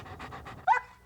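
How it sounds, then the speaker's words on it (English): A dog panting in quick, breathy bursts, close by, ending with a short higher-pitched whimper-like yelp. "that's a happy dog"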